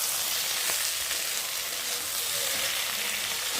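Potato and eggplant pieces frying in a pan, a loud, dense, even hiss of hot oil sizzling close up throughout.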